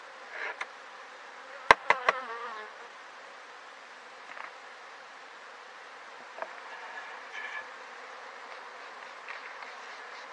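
Steady bee buzzing around a Flow Hive fills the air, a dense swarm-like hum with a few sharp clicks and knocks near the start as the crown board is removed.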